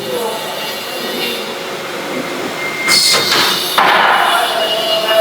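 Automatic tofu factory machinery and a rail conveyor in a tofu mill in Lambar village, Karo regency, running as a steady, fairly loud mechanical rumble with clanks and a sharper burst of metallic hiss and rattle partway through.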